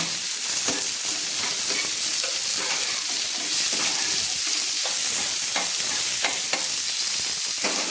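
Slit green chillies fry with potatoes and spring onion stalks in a wok, giving a dense, steady sizzle and crackle broken by repeated stirring scrapes, close and loud throughout, with no voices.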